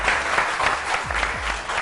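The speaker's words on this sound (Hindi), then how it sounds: "तालियां" Studio audience applause on a Hindi daytime talk show, a dense, steady patter of many hands clapping at close range throughout, with no voices over it.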